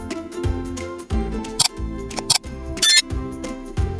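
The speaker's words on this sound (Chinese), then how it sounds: "剪掉多余绳头" Scissors snip excess cord ends on a handmade braided clavicle chain. Several sharp, brief metallic clicks and snips rise over soft background music.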